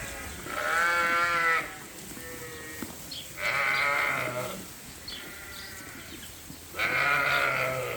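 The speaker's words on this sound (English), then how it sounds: "So these are the Dorset ewe lambs that we just weaned." Dorset ewe lambs, newly weaned, bleat in a farm pen: three loud, drawn-out bleats, each lasting about a second, separated by quieter gaps with background murmur.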